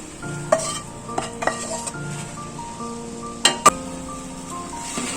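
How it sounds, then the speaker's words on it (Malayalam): Egg being stirred into fried rice in a pan, with a soft frying sizzle underneath and a few sharp clinks and scrapes of a utensil against the pan, quiet and close. "ഈ മുട്ടയും കൂടി ഇട്ട് കൊടുത്ത് ഇത് ഇളക്കി യോജിപ്പിക്കാം"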